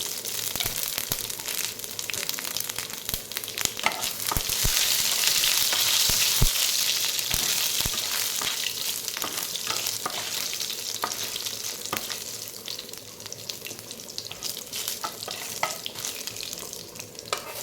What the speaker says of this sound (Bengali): এবার দেখুন দিচ্ছি তেজপাতা আর কয়েকটা শুকনো লঙ্কা আর দিচ্ছি পাঁচ ফোড়ন